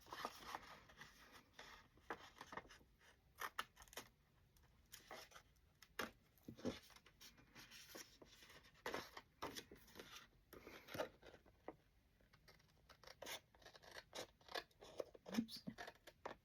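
Small scissors make a steady run of close, crisp snips and paper rustles while cutting little pieces of paper for a peach rose journal, irregular and quiet with no talking.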